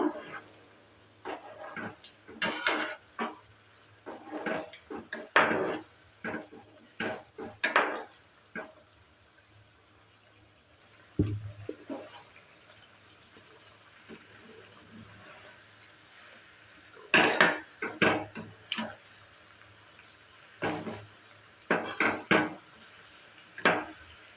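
Suji potato snacks being turned over in hot oil in a kadai, heard as irregular clusters of sharp clinks and scrapes from a utensil against the pan, with quiet gaps between bursts.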